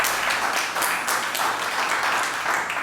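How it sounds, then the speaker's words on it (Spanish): A church congregation applauds together, a steady, dense wash of clapping that holds at an even level throughout with no distinct individual claps standing out. "Démosle ese aplauso al Señor."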